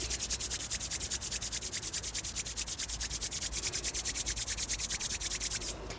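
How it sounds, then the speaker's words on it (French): Hands rub briskly together in a fast, even back-and-forth during a beach yoga session, a close, dry swishing kept up for several seconds before it stops. "on frotte ses mains."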